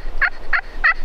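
Three sharp, excited cutting notes from a crystal turkey friction call, mimicking a hen, spaced evenly about a third of a second apart and sounding close and clear.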